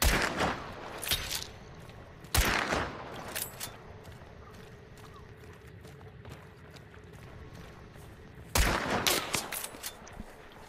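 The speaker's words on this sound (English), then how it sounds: "Just blind firing into the bush then." Gunfire in the game Hunt: Showdown, blind-fired into a bush: sharp, loud shots in a quick burst at the start, another blast a little later and a final burst near the end, with quiet ambience in between.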